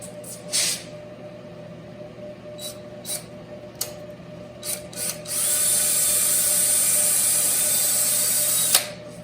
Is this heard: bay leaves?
no